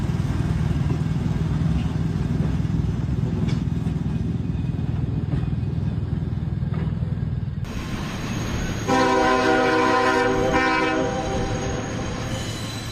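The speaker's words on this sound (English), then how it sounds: "a special train equipped for firefighting is deployed to battle wildfires" A special firefighting train deployed against California wildfires rumbles past loud and steady, then its horn sounds a sustained multi-tone blast near the end over the continuing rail roar.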